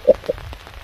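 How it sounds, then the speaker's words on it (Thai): Heavy rain falls during an overnight stay at a riverside fishing spot, a brief wash of drops with a couple of sharper splatters standing out close by. "ฝนลงเม็ดหนักมาอีกแล้ว"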